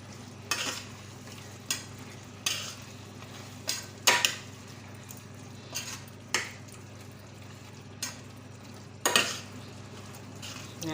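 Spices for mushroom biryani sauté and sizzle in oil in a pan, with a steady frying hiss and a series of sharp, irregular scrapes and clinks as a spoon stirs against the metal, close up.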